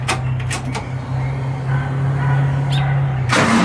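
An LS V8 swapped into a Mazda RX-7 FD, in place of its rotary, running on its first official startup with a gas tank: a steady low idle drone with a brief crank burst at the start and a louder blip near the end.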